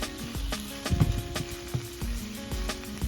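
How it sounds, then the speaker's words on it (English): Sausage and ground beef in a skillet over low heat give a faint, steady sizzle, broken by scraping and clinking as the meat is stirred and mixed. "the sausage and the ground beef to the skillet and just mix them together like I'm doing now"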